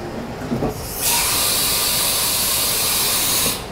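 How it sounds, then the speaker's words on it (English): A CNC machine in a machine shop performs an automatic tool change: a few soft mechanical knocks, then a loud, sustained pneumatic hiss of air that lasts a few seconds and cuts off abruptly. "All right, we'll do a tool change."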